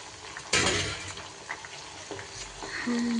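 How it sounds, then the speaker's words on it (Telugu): Ivy gourd (dondakaya) fries in a pan as a quiet, steady sizzle, broken by a sharp clattering knock early on and a few softer stirring scrapes. "దొండకాయలు అయితే వేగిపోతున్నాయి"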